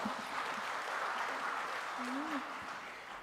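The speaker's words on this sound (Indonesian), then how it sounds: "Kita berikan aplaus sekali lagi buat dia" An audience at a Mangupura Award prize-giving ceremony claps in steady, fairly faint applause that carries evenly throughout.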